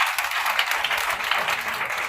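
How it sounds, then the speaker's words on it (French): A church congregation applauds for Jesus during a worship service, a steady, dense patter of many hands clapping close by, continuous and even throughout with no speech on top. "Acclamez-le pour Jésus."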